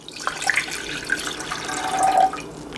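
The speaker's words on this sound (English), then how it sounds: "So I'm going to get my water in here." Water is poured into a mixing bowl for bread dough, a soft, close splashing and trickling that swells toward the end, with no talking.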